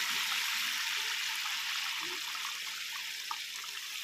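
Hot water pours steadily into a pan of potato and tomato curry, a soft continuous hiss and splash at low level with no talk.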